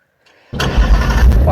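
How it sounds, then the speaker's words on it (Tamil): A video game car engine cranks and catches, then settles into a loud, steady idling rumble. "இன்ஜின் சவுண்ட்லாம் செம்ம ரியலிஸ்டிக்காக இருக்குது உண்மையிலேயே"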